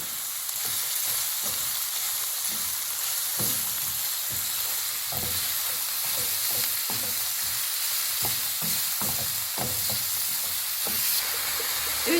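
Steady, loud sizzling of chopped red peppers frying in a pan, with scattered stirring scrapes and clicks throughout.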